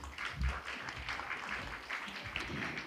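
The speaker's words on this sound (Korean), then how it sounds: "여러분 박수로 환영해 주시기 바랍니다" Quiet, distant audience applause welcoming the grand prize recipient, the Chungcheongnam-do provincial council chair, to the stage at an awards ceremony, with a soft steady patter of clapping and low rumble.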